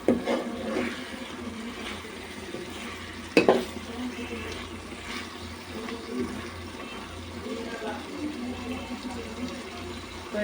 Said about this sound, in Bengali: মুরগিগুলোকে আমি ভেজে নিছি